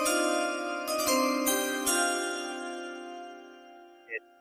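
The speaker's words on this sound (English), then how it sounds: "Hit those chimes." Chimes struck once, ringing with bright metallic tones that decay slowly over several seconds, followed by a brief faint extra tinkle near the end.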